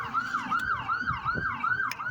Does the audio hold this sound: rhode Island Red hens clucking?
no